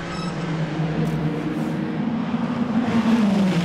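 Ferrari race cars and other prototypes roar past on track during an FIA WEC endurance race, a continuous loud engine drone with pitch rising toward the end, heard without voices.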